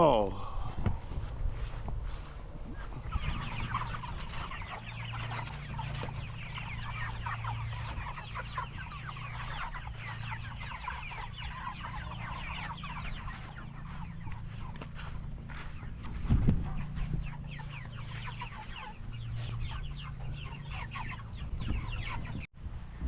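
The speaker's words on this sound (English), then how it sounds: "we are actually poultry farmers as well" Chickens cluck steadily on a small family poultry farm, a busy flock chattering close by under a low outdoor rumble, with some footsteps and occasional voices.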